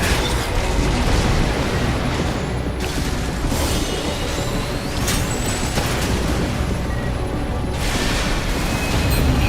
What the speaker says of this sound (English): there's so much explosions.